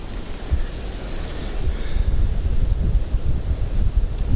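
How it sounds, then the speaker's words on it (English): Ocean waves wash against the shore near Sosua in the Dominican Republic, a steady low rumble of surf building in strength, mixed with heavy wind buffeting the microphone. "Look at these waves."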